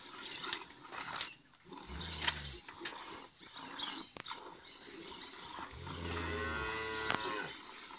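Dairy cows on a farm in El Salvador give two low, drawn-out moos, one short and one longer, amid outdoor clatter and background farm noise.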